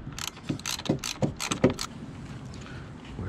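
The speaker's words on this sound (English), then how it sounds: "I'm just taking the 10 millimeter bolt" A ratchet loosens a 10 millimeter battery terminal bolt on a 2016 Chevrolet, a close series of about eight quick clicking bursts in an uneven rhythm, then a quiet stretch.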